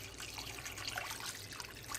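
Water is poured into a cooking pot for spicy instant noodles while preparing a meal, a steady faint trickling and splashing for about two seconds with no talk over it.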